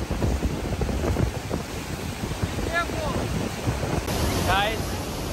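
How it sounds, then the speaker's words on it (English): A very large waterfall thunders close by as a steady, dense roar of falling water, with wind buffeting the microphone throughout. "I'm here in front of the waterfall, which is biggest waterfall in the world"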